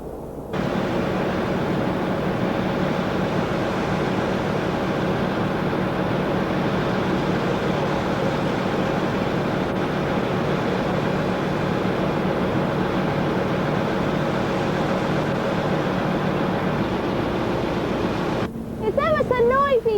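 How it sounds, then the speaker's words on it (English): Inside the engine room of the Strangford car ferry, the engine turning the propeller shaft makes a loud, unbroken roar that fills the space, with a voice coming in only at the very end. "It's ever so noisy down in the engine room."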